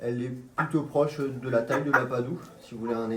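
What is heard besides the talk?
No everyday noises stand out.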